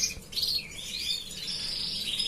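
Four young canary chicks, the oldest brood in a canary breeding room, chirp in a thin, high, continuous twitter of overlapping calls close by.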